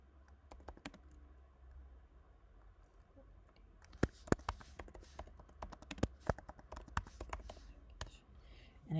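Fingers type on a computer keyboard in quick irregular clusters of crisp key taps, sparse at first and then denser and sharper, close by and quiet, with no voice.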